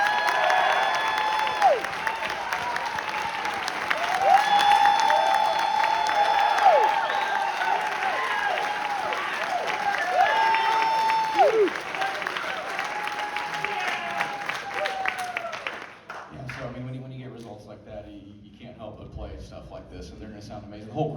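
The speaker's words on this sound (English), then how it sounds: "So give them a round of applause." An audience applauds high school trombone players at a jazz band concert. Sustained, full applause comes with scattered cheers, whistles and voices, then thins out and fades toward the end.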